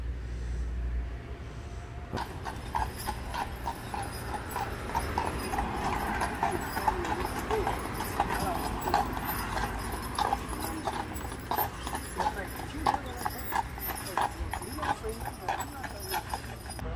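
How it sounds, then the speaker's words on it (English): A horse and buggy clip-clops steadily along a street on Steinwehr Avenue in Gettysburg, with regular hoofbeats over traffic and outdoor ambience, people talking, and a dog barking now and then. "they have a horse and buggy ride you can take"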